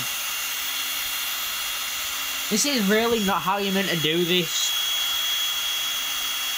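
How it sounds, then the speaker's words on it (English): A power drill bores through the side of an RC car's plastic tray, a steady whining hum running throughout while someone talks briefly over it in the middle. "I'm drilling it like that through the side."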